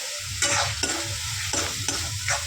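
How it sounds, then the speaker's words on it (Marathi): Ground masala paste sautéed in oil for a dhaba-style whole masoor curry, a continuous close sizzle broken by four or five scraping stirs of a spoon through the thick paste, no voices. "वाटणाला चांगलं तेल साईडने सुटलं ना, तर समजायचं की वाटण चांगलं आपलं परतून झालेलं आहे."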